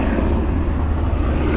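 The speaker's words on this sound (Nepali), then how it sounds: "हेलिकप्टर पनि पुरै फ्लाइ गर्दैछ" A helicopter flies overhead above a mountain forest near a cliff, giving a loud, steady, low rumble that holds without a break, with no talking.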